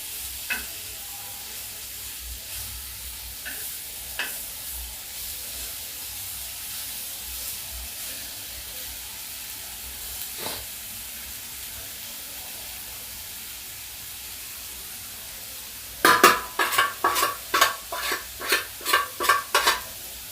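Pineapple slices warming lightly in a pan, a faint sizzle for most of the stretch, then a closing run of sharp, rapid clatters from the pan or utensil, nearby and with no voices.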